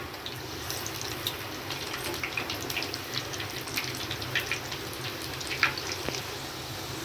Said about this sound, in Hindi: अब धीरे धीरे करके डालेंगे इसमें और इनको हाफ़ फ्राई करेंगे।